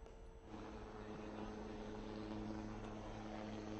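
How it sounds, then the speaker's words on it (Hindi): A light combat helicopter (LCH) coming in to land, its engine and rotor giving a steady broadband roar with a low tonal hum that stays loud and constant throughout, with no talk. "हेलीकॉप्टर बिल्कुल लैंड करने वाला है"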